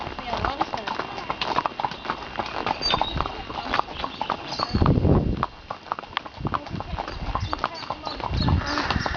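Horse hooves clip-clop steadily while a rider goes along on horseback with another horse following behind, the rhythmic clopping running throughout under intermittent talking.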